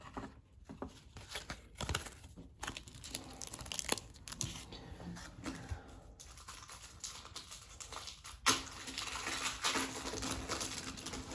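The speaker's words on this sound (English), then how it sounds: "So this should be a relatively short box break just because of how few cards appear in each set." Packs of 1991 O-Pee-Chee Premier baseball cards are torn open, with foil wrappers crinkling and ripping close by and cards shuffling in a steady, busy stream of small rustles.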